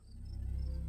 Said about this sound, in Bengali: ঝিঝি পোকার ডাক শোনা যাচ্ছে প্রবল ভাবে।